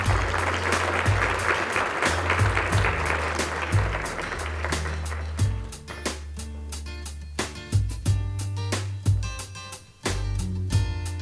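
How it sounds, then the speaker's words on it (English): An audience at a public health literacy event claps for the poets. The applause is loud and steady at the start, then thins into scattered claps toward the end. "So you can clap for the poets if you want."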